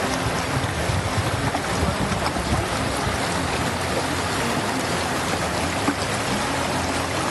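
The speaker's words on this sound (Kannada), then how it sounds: "ನಂದನಕುದ್ರು, ರಾಮನಕುದ್ರು, ಬಲ್ಜಿ ವ್ಯಾಪ್ತಿಯಲ್ಲಿ ಭಾರೀ ನೀರು ಹರಿಯುತ್ತಿದೆ" Heavy floodwater surging through flooded villages after torrential rain, a loud, continuous broadband roar with gusty wind buffeting the microphone throughout.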